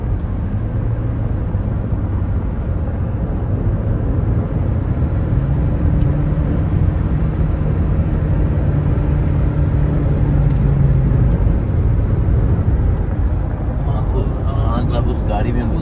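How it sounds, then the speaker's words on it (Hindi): Imran Khan's car convoy on a motorway, a steady loud low rumble of several vehicles moving together that carries on throughout, with brief faint higher clicks and a voice speaking over it. "अब ये काफ़िला मोटरवे पर मौजूद है।"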